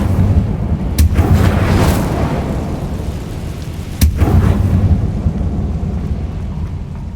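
An Incendio fire spell in the Hogwarts Legacy video game erupts as heavy, rumbling booms, two sharp blasts a few seconds apart, each trailing off into a loud roiling whoosh.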